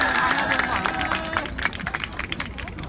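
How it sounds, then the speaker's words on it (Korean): A crowd at an outdoor weekly rally claps in a brisk, scattered burst under loose chatter and a voice, the applause fading out over a few seconds. "박수로 맞아주세요."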